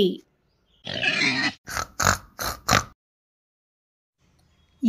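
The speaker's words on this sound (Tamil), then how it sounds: "பன்றி" A domestic pig grunts in a short burst followed by four quick, loud, close grunts, clear and alone with no talk around them.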